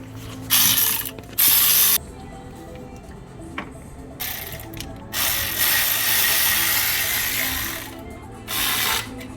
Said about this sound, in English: now we just need the ratchet again